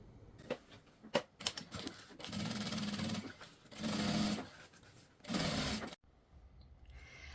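A sewing machine stitches a safety seam along the sides of a bag gusset, joining outer and lining fabric: scattered clicks first, then three bursts of rapid steady stitching separated by pauses, close and fairly quiet with no talk.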